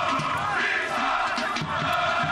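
Mixto football supporters chant in the stands at a Mato Grosso championship match against Dom Bosco, a steady, roaring crowd chorus that swells and dips without pause.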